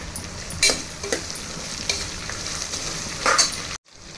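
Ginger pieces, curry leaves and coriander fry in a pan with a soft sizzle, broken by several crisp scrapes and taps of a stirring spoon, then the sound cuts off abruptly.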